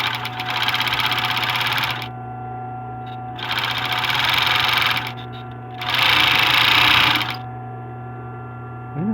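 A GN-800 overlock serger runs at speed in three loud bursts of rapid, rattling stitching separated by short pauses, with a steady hum continuing underneath.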